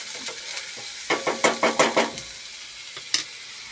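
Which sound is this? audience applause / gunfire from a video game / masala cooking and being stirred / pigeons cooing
masala cooking and being stirred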